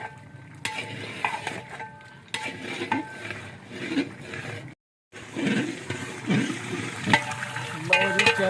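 Chicken korma is fried and stirred in a pot, degi style. A busy sizzle runs under repeated clattering scrapes of a spoon against metal, broken by a brief silent gap midway.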